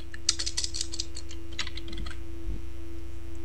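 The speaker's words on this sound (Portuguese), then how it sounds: "E se eu, porventura, digitar o mesmo Ctrl mais Enter" Computer keyboard keys tapped while working in Excel 2013, a short cluster of light, close clicks followed by quieter scattered presses over a steady electrical hum.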